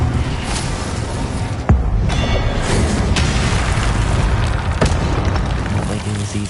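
An Incendio fire spell cast in the video game Hogwarts Legacy, a loud whooshing, rumbling blast with sharp bursts and pops layered over continuous game combat noise and a voice.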